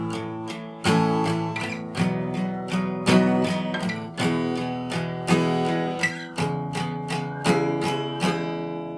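Guitar plays the chorus of a song, with a steady series of strummed or plucked chords ringing out close and clear, no voices.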